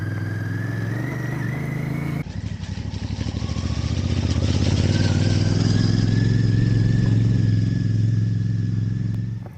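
Royal Enfield Bear 650 motorcycle ridden off-road, a steady engine drone that picks up and holds loud and close after a brief quieter start, with some clatter from the rough ground.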